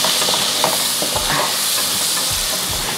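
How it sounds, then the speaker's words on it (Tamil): Onions sautéing in a pan, a steady close sizzle with soft scraping stirs and low knocks running through it, no voices. "வெங்காயம் போட்டுட்டு நல்லா வதங்கட்டும்."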